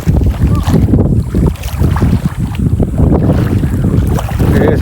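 Water rushing at speed through a channel near standing, dark muddy water, a steady broadband wash with gusty wind buffeting the microphone throughout, loud and close.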